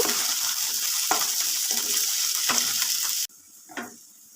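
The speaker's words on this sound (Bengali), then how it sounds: "বিন কড়াইগুলো একটু ভেজে নেব।" Peas fry in a pan as filling for vegetable samosas, sizzling loudly and steadily with periodic stirring scrapes, then abruptly dropping to a much quieter hiss near the end, broken by a brief clatter.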